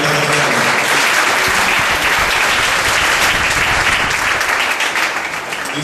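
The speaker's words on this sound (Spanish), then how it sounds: "Aplaudan a Jesucristo esta mañana." A church congregation claps together during a Sunday morning service, a dense, steady wash of loud applause that carries through the whole stretch and eases off slightly at the end.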